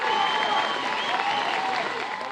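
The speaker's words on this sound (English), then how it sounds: "Protesters outside police headquarters chanting Black Lives Matter and cheering." Protesters outside a police headquarters in Dallas clap and cheer together, a steady, dense roar of applause and crowd noise that fills the whole moment at close to mid range.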